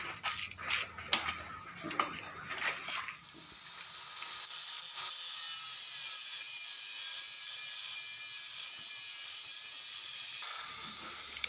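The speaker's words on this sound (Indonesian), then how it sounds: "ini proses pemotongan untuk subframe belakang orinya Mega Pro dipotong di 4 titik" Stock rear subframe of a Yamaha Megapro motorcycle being cut through with a power tool, a steady loud grinding hiss running for most of the stretch after some irregular scraping at the start.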